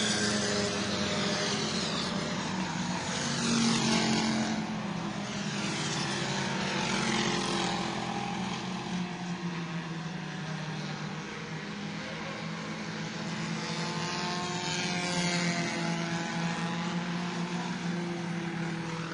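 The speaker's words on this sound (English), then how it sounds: "Coming out of turn number 4 to the checkered flag, Zachary Curtis is going to win" Bombers-division stock cars race at New Smyrna Speedway, coming out of turn four toward the checkered flag; a loud, continuous engine roar fills the track, with sweeping rises and falls as cars pass by.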